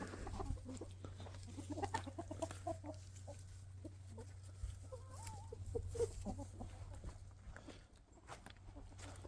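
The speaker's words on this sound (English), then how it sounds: "it's annual chicken chore time, and these chickies" A flock of hungry homestead chickens clucks steadily at feeding time, with scattered close clucks and squawks, footsteps moving about, and a constant low hum underneath.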